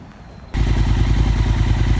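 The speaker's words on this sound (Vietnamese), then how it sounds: "đây mình nổ máy cho mọi người nghe tiếng bo nha." A custom Triumph Scrambler 1200 XE motorcycle engine fires up after a brief quiet moment and settles into a steady, loud, close idle with a deep throbbing exhaust rumble, its stock baffle still fitted and softening the tone.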